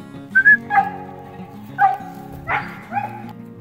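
A small dog whimpers in thin, high whistling whines, a few brief rising cries spaced across a few seconds, close by and alone without talk.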